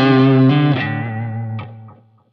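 An electric guitar on a Strat's neck pickup, run through Helix effects, rings out a distorted, chorus-tinged chord that sustains loudly, then fades away over about two seconds, with no voices.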